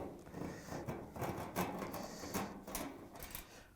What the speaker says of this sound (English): we're going to use a 1/4-inch nut driver to take out the screws that hold the back panel on